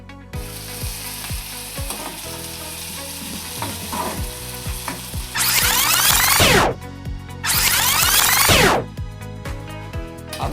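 Prawn curry ingredients with curry leaves sizzle loudly in a hot pan as a spatula stirs and scrapes with rhythmic knocks, the frying hiss surging in two long bursts. No one speaks.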